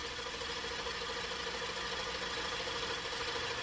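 A Mazda K8 engine in a Mazda MX-3 runs steadily with sequential fuel injection active, giving a constant, even hum with a faint rapid ticking from the injectors and no voices.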